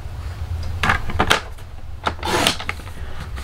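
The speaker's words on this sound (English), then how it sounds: "I'm going to turn it and cut it again at 4" Card stock is sliced to size on a paper trimmer, making two close, crisp cutting swipes roughly a second apart, with a soft clack between them.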